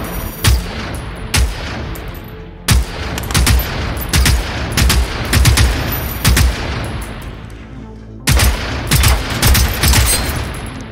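Gunfire pours into a robot machine base in the game Generation Zero, sharp shots coming in bursts and volleys across the whole stretch, loud and close, with brief lulls between rapid strings.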